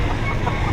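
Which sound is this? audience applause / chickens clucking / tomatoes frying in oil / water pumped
chickens clucking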